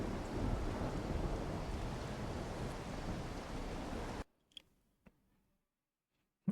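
A video game lightning storm rumbles with dense, roaring rain and thunder for about four seconds, then cuts out, leaving a few faint ticks and clicks in near silence.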